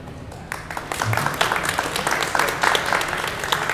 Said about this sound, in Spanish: Pedimos un aplauso para ella, por supuesto.